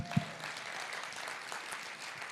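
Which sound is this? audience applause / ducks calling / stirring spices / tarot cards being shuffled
audience applause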